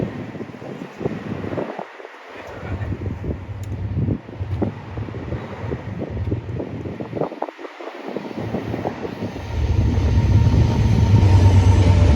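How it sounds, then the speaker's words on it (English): A train rolls past near the Mid-Hudson Bridge in Poughkeepsie, New York, a steady rumble with clacking wheels heard outdoors under gusty wind noise, growing louder and heavier toward the end. "There's a train."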